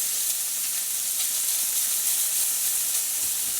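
Minced meat sizzles and fries loudly in a hot pan as it is broken up for a ragu, a continuous close hiss with faint scraping and no talk.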